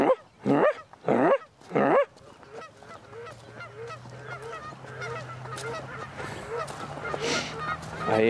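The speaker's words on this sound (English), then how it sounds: "geese are gonna honk at me pretty soon" Several loud geese honk close by in quick bursts, then a flock keeps up a busy chorus of honks and yips farther off over a low steady hum.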